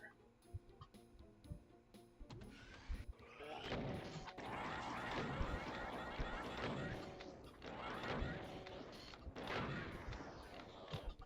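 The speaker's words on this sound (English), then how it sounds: "I'm going to shoot them from here so that I can focus on the spider" Gunfire in the classic shooter Doom, played on ultra-violence: repeated sharp shots and impacts in an ongoing firefight, fairly loud and continuous for several seconds after a quieter start.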